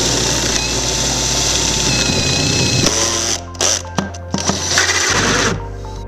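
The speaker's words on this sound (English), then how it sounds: "now I want to drill the hole for the plumbing" A power drill bores a hole through wood for plumbing in a tiny house loft build, whirring loudly and steadily close by, then stuttering in short bursts as the bit works through before spinning down.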